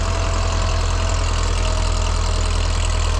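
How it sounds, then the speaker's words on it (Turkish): A close Başak 2073 tractor engine idles with a steady, loud low thumping rhythm, unbroken and without voices. "küçük çiftçiler için bu traktör bitirim"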